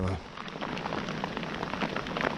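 Rain falls steadily on open water around a small aluminum boat at night, a dense, even patter with scattered louder drops throughout.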